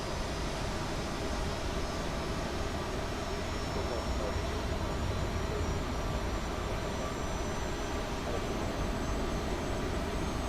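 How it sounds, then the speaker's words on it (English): An Aerosoft CRJ jet engine spools up in Microsoft Flight Simulator, a loud steady broadband roar with a faint rising whine that stays constant throughout. "And starting up the engine."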